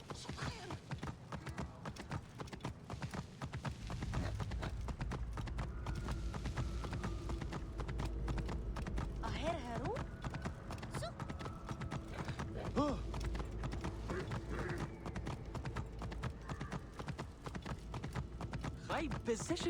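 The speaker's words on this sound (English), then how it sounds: "I'm just gonna get the horse to make it all go faster." Horse hooves clip-clopping at a fast, steady gallop in Assassin's Creed Origins, set in ancient Egypt, a continuous rhythmic drumming that runs under game ambience and occasional talk.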